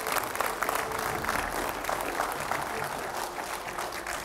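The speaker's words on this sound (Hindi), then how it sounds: "जोरदार तालियों से स्वागत कीजिए तुलसी पीठाधीश्वर जगतगुरु राम भद्राचार्य जी का।" Audience applause welcoming a spiritual leader onto a Hindi discussion stage, a steady dense wash of clapping that holds at an even, fairly loud level for the whole stretch, with a voice faintly audible beneath it.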